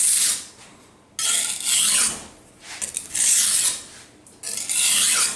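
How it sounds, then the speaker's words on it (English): Steel knife blade ground along its bevel during sharpening to remove stock, heard as three loud, bright rasping passes separated by short quieter gaps, with no voices. "the bevel we're grinding is even from heel to tip"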